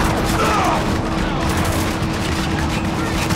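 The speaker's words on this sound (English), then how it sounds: "I'm shooting at the enemies." Sustained, dense gunfire from enemies being shot at in the Spec Ops: The Line game, a steady roar of rapid shots with a constant low hum and no clear breaks, loud and close throughout.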